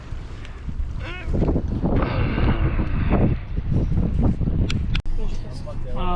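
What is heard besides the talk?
wind blowing on a sailboat at sea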